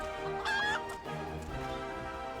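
Chicken clucking in the video game Final Fantasy 14, a short burst of squawky fowl calls over steady game music, with a louder squawk near the start.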